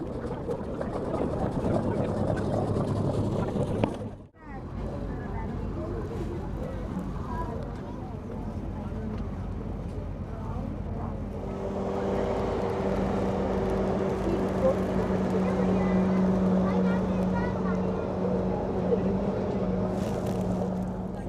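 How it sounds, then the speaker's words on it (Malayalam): A tourist boat on the lake at Thekkady pulls away slowly, its engine a continuous low rumble that briefly dips and then settles into a steadier hum with a sustained drone, while voices carry on in the background. "ബോട്ട് പതുക്കെ എടുത്തു തുടങ്ങിയിട്ടുണ്ട്."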